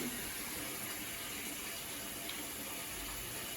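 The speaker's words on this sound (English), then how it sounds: "as you can see, the water goes in smoothly" Water rushes into an Avanti TLW 21D2P portable washing machine during a repair, a faint, steady, even gushing flow with no other sounds.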